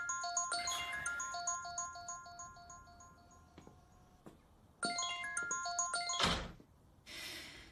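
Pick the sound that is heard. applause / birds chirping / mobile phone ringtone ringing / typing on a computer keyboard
mobile phone ringtone ringing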